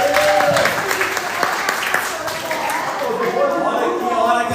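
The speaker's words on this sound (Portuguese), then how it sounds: "Palmas para ele." Warm applause from a church couples' gathering rises under the loud, ongoing voice of someone speaking, with scattered claps blending into the talk throughout.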